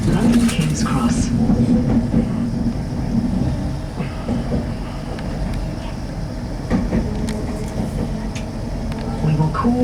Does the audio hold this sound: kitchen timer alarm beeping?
no